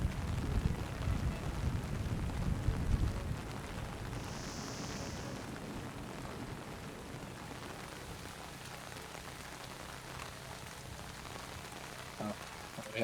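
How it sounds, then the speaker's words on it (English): Steady rain hiss in the Splinter Cell video game, heavier at first and then settling into a soft continuous patter, with faint low rumbling underneath and no talk. "Man, it's really raining."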